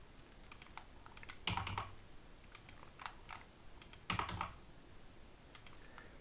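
Shortcut keys pressed on a computer keyboard while working in Blender, quiet clicks in short bursts with two louder presses.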